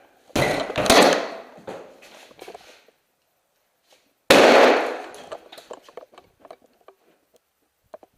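A TAG M203 airsoft grenade shell fired into a small 8x8 room gives two sharp, loud bangs about four seconds apart, each followed by scattered pattering and rattling of pellets and debris that fades out.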